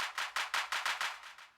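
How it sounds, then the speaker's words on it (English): Electronic clap samples with a delay effect, programmed in Ableton for a re-engineered track: about nine crisp, evenly spaced hits repeating as echoes that gradually fade, standing alone without talk. "So electronic claps with a bit of a delay on those claps as well"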